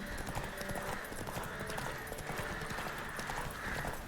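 Horse hooves clip-clop in a rhythmic galloping pattern within The Witcher 3 game, steady repeating beats at moderate distance under faint background game sound.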